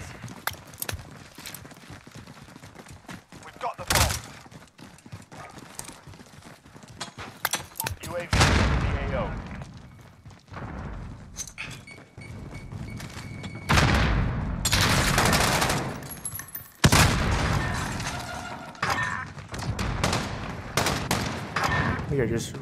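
AK-47 assault rifle gunfire in a search-and-destroy video game match, with intermittent loud bursts of rapid shots separated by quieter stretches and occasional voices talking.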